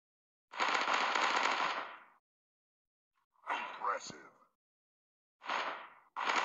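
Gunfire from the Commando Strike Force shooter video game: three loud, dense bursts of automatic fire separated by short silences, the second burst cut by a sharp impact, with a game voice announcing between shots.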